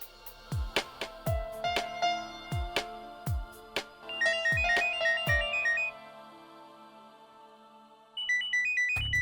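A phone ringtone in a TV drama scene plays a repeating melodic pattern of bright tones, fairly loud and close, pausing briefly before starting again.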